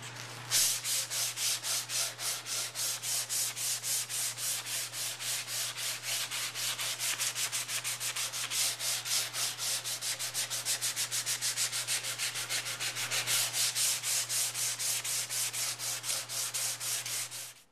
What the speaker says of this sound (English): I'm going to hand sand with 80 grit, and I'm just going to wrap it around a foam sanding block